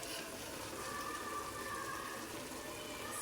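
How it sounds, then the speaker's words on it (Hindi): Water poured into a pot of masoor lentils and ridge gourd, a steady faint gushing stream lasting a few seconds without any talking. "और साथ में डाल रही हूँ पानी"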